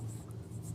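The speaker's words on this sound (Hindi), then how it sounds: "इसको सीधा लिख देता हूँ" Pen or chalk writing on paper or a board during a maths lesson, a soft brief scratching stroke heard close under a low background hum.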